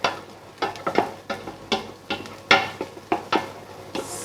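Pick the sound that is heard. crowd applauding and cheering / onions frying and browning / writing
onions frying and browning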